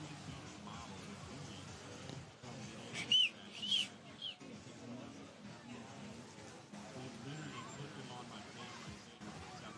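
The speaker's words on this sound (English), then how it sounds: "Sorry if you had a loud whistle in your ear." Two short, piercing whistle blasts sound at a beach surf contest, blown to keep people out of the skimboarding area. They rise above steady crowd murmur and wind noise, with people talking nearby.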